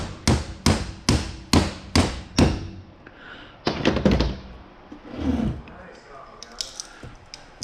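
A hammer drives a chisel to bend up a band on a transformer's base plate during a teardown: six sharp, evenly spaced metallic blows close by, then a few heavier irregular knocks and scraping.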